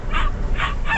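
A dog barks three times in the background at a steady rhythm, moderately loud, with no voices over it.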